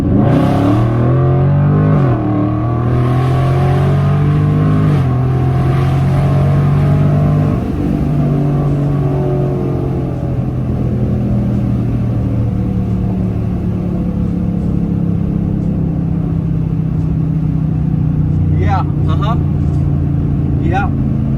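A 2021 widebody Dodge Charger with a mid muffler delete accelerates hard from a slow roll, its loud engine note rising steadily through several upshifts and roaring continuously, with people talking inside the car.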